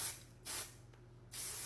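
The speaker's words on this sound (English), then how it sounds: "So I'm gonna take my dry texture spray" Dry texture hair spray comes from an aerosol can in three short, close bursts of hiss separated by brief pauses.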